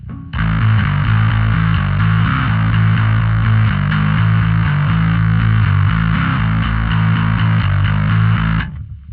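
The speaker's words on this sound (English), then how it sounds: "And then if I turn that off, I can turn on this other distortion." Bass guitar through a Headrush distortion effect, a loud sustained fuzzy line held for several seconds with a thick buzzing tone, then stopping abruptly.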